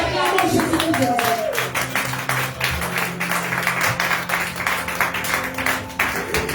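A church congregation claps for Jesus Christ during a French-language service in Baltimore: dense, steady rounds of applause run throughout, mixed with a voice and musical tones from the worship.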